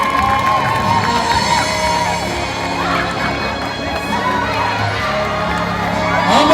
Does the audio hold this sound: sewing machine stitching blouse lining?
no